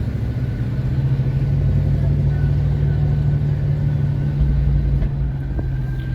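A new Audi RS sets off on its first kilometres on a closed race track, its engine giving a steady low rumble that holds close and continuous with little change in pitch.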